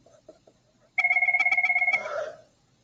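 A telephone rings with a rapid warbling electronic trill, one loud burst of pulsed double-tone beeps lasting about a second, then fading out, in an otherwise quiet room.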